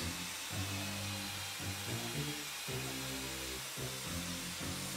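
A power drill fitted with a countersink bit cuts countersinks into wood in repeated short bursts, its motor whine rising and dropping with each cut, close and loud, with no voices.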